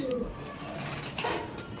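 Kaldom pigeons coo inside a loft, a few soft throaty coos close by over a low background murmur.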